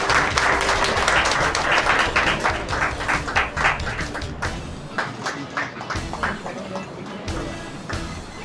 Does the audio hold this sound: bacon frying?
no